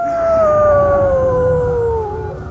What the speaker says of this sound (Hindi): सड़क पर कुत्तों के रोने की आवाज और तेज हो गई।